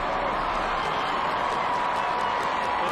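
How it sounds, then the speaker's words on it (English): A rugby crowd at a Welsh university varsity match between Cardiff and Swansea roars in a dense, continuous wash of cheering and applause, loud and sustained throughout. "The crowd haven't heard it, they'll get their cheer"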